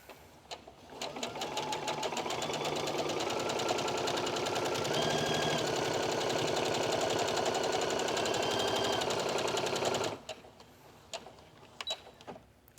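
A sewing machine stitching espadrille fabric, a fast steady needle chatter running close and loud for about eight seconds before stopping, followed by a few light clicks.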